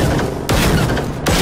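Rockets fired by a robot in the Generation Zero video game explode in two heavy, loud booms about a second apart, over a constant rumbling bed of game noise.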